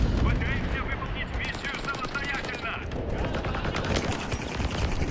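Rapid automatic gunfire in Call of Duty: Advanced Warfare, sustained machine-gun bursts rattling continuously at close range, dense and loud with overlapping shots.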